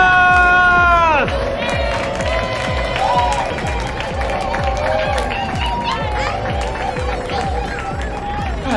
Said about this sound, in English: Again, somebody clap for Jesus.